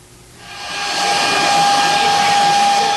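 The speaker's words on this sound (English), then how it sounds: "You know the sounds of the hair salon." A hair dryer whooshes on in a busy hair salon, rising quickly to a steady, loud airy roar with a faint whine, running continuously without talk.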